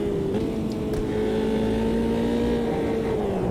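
Race car engine in the video game Automobilista 2 braking into a chicane, a loud, steady engine drone with tones sliding downward as revs drop, close and continuous throughout.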